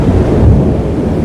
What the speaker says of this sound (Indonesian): Ini makin tinggi ombaknya.